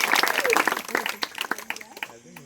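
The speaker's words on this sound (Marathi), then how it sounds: "टाळी वाजा." A group of people clapping their hands at a home gathering, a dense burst of claps that thins into scattered slaps, mixed with loud overlapping voices and shouting.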